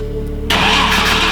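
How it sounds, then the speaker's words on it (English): A rally car's engine, unused for ten years, bursts into life after a brief cranking moment with fuel fed through the air intake, catching with a loud, rough roar that carries on, close and dominant. "We tried to put a little bit of fuel through the air intake to see if the car would fire up."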